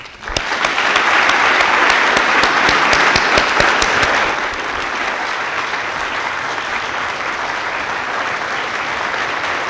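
Audience applause welcoming lecturer Julian Bond at a social justice lecture, loud sustained clapping from a large crowd with sharp individual claps early on, then easing to a softer, steady patter.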